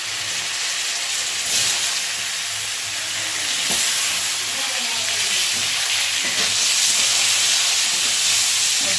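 Cut potatoes frying in hot oil with black cumin seeds for a spicy bele fish curry, a steady loud sizzle and hiss with occasional stirring scrapes.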